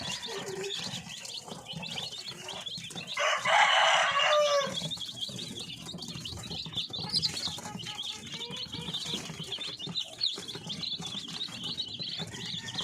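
Lively chicks and darag breeder hens in a coop, with constant cheeping and clucking and a loud burst of squawking in the middle; fairly close, no talking.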